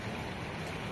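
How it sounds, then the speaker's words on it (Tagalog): Strong water rushing through a deep canal, a dense, steady broadband wash that holds at constant loudness from start to finish with no voices over it. "Oh, ang lakas ng tubig."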